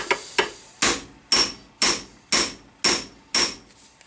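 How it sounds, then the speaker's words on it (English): Eight sharp metallic hammer blows on a metal part held in a vise, at an even pace, each ringing briefly, close and loud with no talking. "I found it was just so much easier, and quicker to just hammer it"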